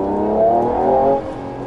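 A 2020 Mercedes-AMG E53 4MATIC+ engine, close and loud, with a steady harmonic growl that rises slightly in pitch, then eases off near the end; no voices.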